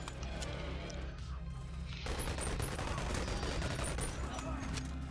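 Gunfire in the VR game Boneworks comes as a dense, continuous burst of rapid shots and metallic crashes that grows louder halfway through and sits over a constant background din.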